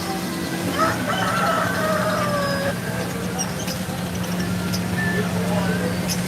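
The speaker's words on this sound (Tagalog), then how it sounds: "Ayan, oh, native na manok." Native chickens cluck and crow close by over a steady low mechanical hum, with several overlapping bird calls scattered through the scene.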